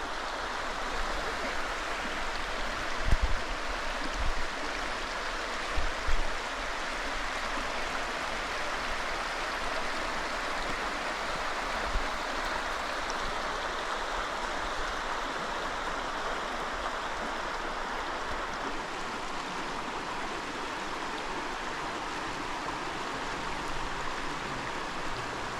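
Big Darby Creek in Ohio flows steadily with a continuous broadband rush of water, with a few faint bumps and thuds near the start.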